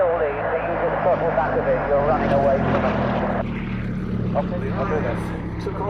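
A Westland Lysander's propeller engine drones steadily overhead at the Duxford Battle of Britain air show, loud and sustained, with a commentator talking over it throughout.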